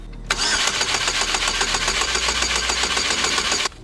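A Pontiac Solstice engine cranks over with a new oil pump being primed, giving a steady, rhythmic starter churn for about three and a half seconds, close and loud, with no voices.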